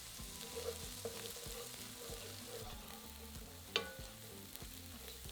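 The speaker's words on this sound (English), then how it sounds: "add in 2 cloves of minced garlic, stir together and cook for another minute" Softened shallot and minced garlic frying in a pan, a soft, continuous low sizzle with light stirring scrapes and one sharp utensil tap against the pan.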